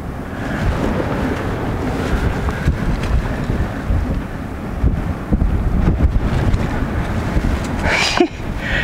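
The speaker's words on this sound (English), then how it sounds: "Oh, that wind is blowing that board around," Strong wind buffets an outdoor painting easel and board on a seaside headland, a loud continuous roaring rumble with gusty swells and a few knocks and rattles near the end.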